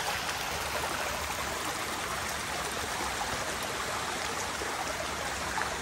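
Stream water flowing beside a hiking trail in the Grampians, a steady, close rushing and babbling wash that fills the whole stretch without pause, no voices over it.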